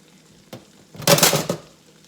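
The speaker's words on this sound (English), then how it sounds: "I'm gonna add another tablespoon of the Kerrygold butter and just let that cook together" Chicken broth and Kerrygold butter cook together in a pan, with a light tap followed by a brief, loud burst of close sizzling that quickly fades, with no voices.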